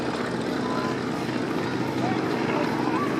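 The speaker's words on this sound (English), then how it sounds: "The bombing aircraft setting up for another run." A bomber aircraft flies at the Old Rhinebeck airshow, making a steady, droning engine roar that holds throughout without pause.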